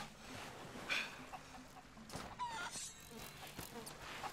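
Chicken clucks in a pirate video game, a few short squawks set among combat sounds, footsteps and background game noise, with no voice over them.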